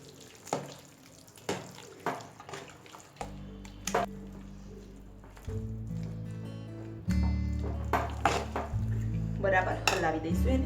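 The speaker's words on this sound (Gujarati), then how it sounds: "બરાબર હલાવી દઈશું એને." A potato and sago (sabudana) mixture stirred in a metal pot, with repeated scraping and clinking of a spoon against the pot and a continuous watery churning that builds louder toward the end.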